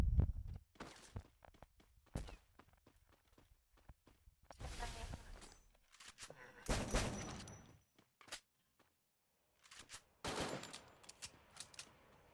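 Gunfire in the Free Fire battle royale video game: irregular bursts of shots, some rapid like automatic fire, separated by short gaps, with occasional footstep-like thuds in between.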